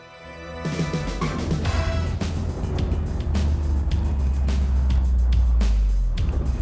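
A 1991 Lotus Elan sports car starts off and drives, its engine building from a quiet start into a loud, rising drone with brief gear-change dips, heard alone without speech.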